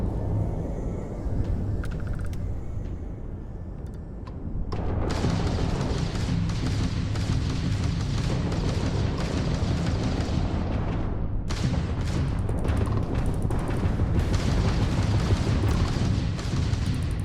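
Space combat in the video game Starfield: a dense, continuous barrage of ship weapon fire and booming explosions. A low rumble gives way to a louder, sustained roar of blasts around five seconds in, which stays thick and loud to the end with no talking.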